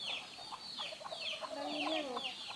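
A rooster at a rural village home clucks in a series of short, close calls with rising and falling tones, repeated over a few seconds against light background noise.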